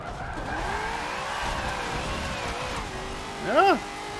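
Race car sliding sideways at high speed in the racing game Forza Motorsport 7, its engine whining steadily while tires squeal, ending in a sharp, loud screech; people talk over it.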